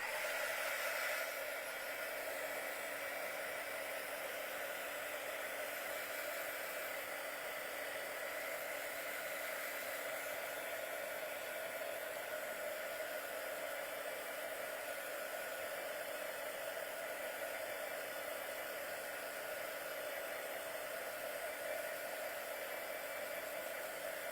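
A hair dryer blows steadily to dry a decoupaged small canvas tote bag, giving a continuous loud whooshing hum with a slight start-up surge, running alone for the whole stretch with no talk.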